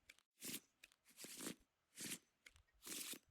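Research cards for the Civilization board game being shuffled by hand, four quick riffling bursts in an even rhythm, close and fairly soft, no talk.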